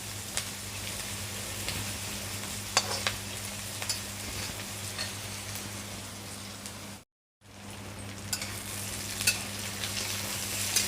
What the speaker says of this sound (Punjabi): ਹਲੇ ਥੋੜਾ ਜਿਹਾ ਇਹਨੂੰ ਸੇਕ ਲੱਗਣ ਦਿਓ ਜ਼ਿਆਦਾ ਆਪਾਂ ਕਾਲੇ ਨਹੀਂ ਕਰਨੇ ਪਿਆਜ਼